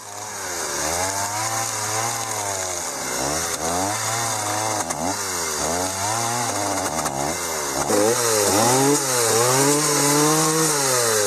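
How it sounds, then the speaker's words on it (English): Log Wizard grinder on a power tool cutting into big knots on a log being carved into a canoe, a loud whining buzz whose pitch repeatedly dips and recovers as it bites into the wood. "The log wizard also came in handy to grind away at those big old knots on the outside."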